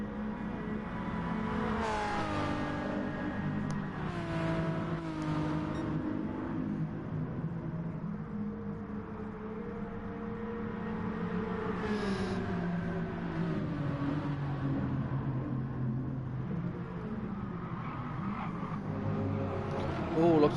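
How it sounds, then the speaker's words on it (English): Two old Ferrari race cars accelerate up the back straight toward 130R in the video game Gran Turismo Sport, their engines rising and shifting in pitch through gear changes, heard under ongoing race commentary. "Let's stay with these 2 lovely old-fashioned Ferraris here as they power up the back straight towards 130R"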